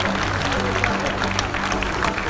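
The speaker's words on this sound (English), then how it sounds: "keep that applause going" Applause from the crowd at a seal and sea lion show at Taronga Zoo, steady clapping in the open air with a low hum underneath and some murmuring voices, lasting a couple of seconds.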